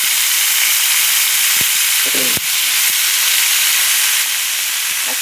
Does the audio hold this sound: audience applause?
no